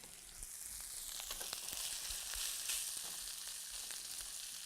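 Rice fries in a pan, not a wok, while Thai coconut shrimp is being made, giving a steady, soft sizzle with faint scattered crackles and no talking.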